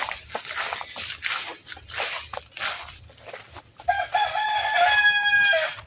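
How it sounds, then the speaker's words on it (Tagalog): A Kubra rooster crows loudly nearby in a mountain setting, its drawn-out call repeating, with a few clucks and rustling around it. "Ito po yung manok na kubra."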